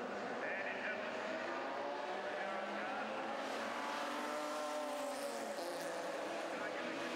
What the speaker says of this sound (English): So he's the first of the cars to come out of pit lane.